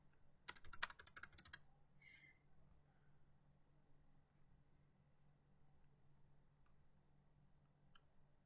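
A short, quick burst of typing on a computer keyboard, a dense cluster of clicks lasting about a second, then near silence with a faint hum and a few tiny ticks.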